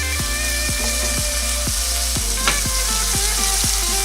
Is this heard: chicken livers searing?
yes